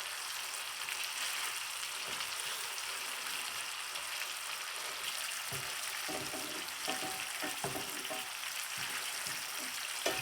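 Shrimp with garlic sizzle and crackle in a frying pan, a steady close hiss of frying with scattered pops and light clinks as the pieces are turned.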